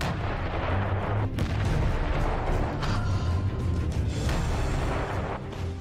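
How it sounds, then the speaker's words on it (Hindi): Ukrainian army T-30 cannon firing shells on the Bakhmut front, a dense, continuous roar of heavy booms and rumbling blasts running throughout with no pauses, loud and close. "ये यूक्रेन आर्मी की T-30 तोप है और यहां इससे लगातार गोले बरसाए जा रहे हैं।"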